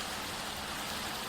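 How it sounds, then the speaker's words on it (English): Heavy rain in a video game world, a dense constant hiss of downpour filling the scene, loud and unbroken with no talk. "this rain is very loud."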